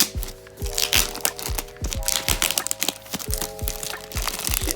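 Unboxing a package holding a retro keyboard: dense crackling and crinkling of packaging with repeated sharp cracks and rustles, close and continuous, no talk.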